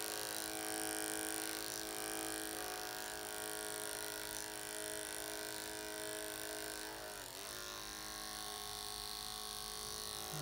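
Electric hair clippers cut hair over a comb in a barbering session, giving a steady close buzzing hum that runs throughout with slight shifts in pitch as the blades move.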